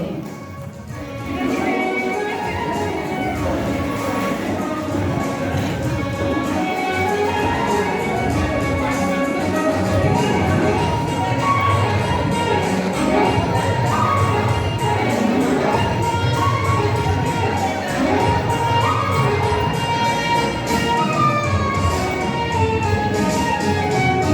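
Audience applause at a memorial event with an award presentation: a long, steady wash of crowd clapping, fairly close and full, swelling after a quieter start and holding evenly throughout without speech.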